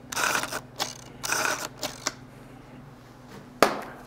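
A Mamiya RZ67 medium format camera fires its shutter in a quick series of sharp mechanical clacks and softer clicks, close and crisp, with a final loud snap after a short pause.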